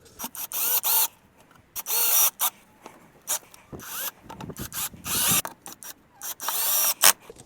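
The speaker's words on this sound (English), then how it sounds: "Now we just need to screw the ECU back in, and then should be done with this." A car ECU is screwed back into a crashed Mercedes CLA during repair, with short bursts of close, whirring power-driver or ratchet action separated by pauses.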